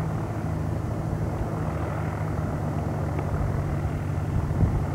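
Small plane on its first solo flight coming in to land, its steady propeller and engine drone low and continuous at a moderate distance, with no talk over it.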